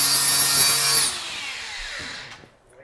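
Power tools whirring and grinding in a garage during work on a drag race Ford Fairlane, a loud high-pitched spin for about a second that then winds down and fades, followed by a few faint knocks.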